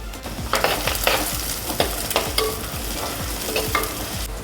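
Chopped shallots and green chillies fry in hot coconut oil with fenugreek, garlic and ginger for a fish curry base, a loud, continuous sizzle broken by regular scraping strokes of a spoon stirring the pan, with no talking.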